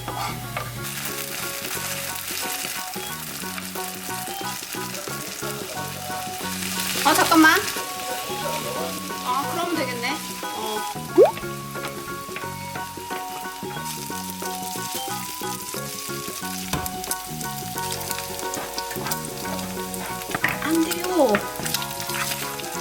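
Food frying in a small pan for a single-serving bacon garlic fried rice, with a steady close sizzle throughout, scraping stirs and occasional clinks, and music playing in the background.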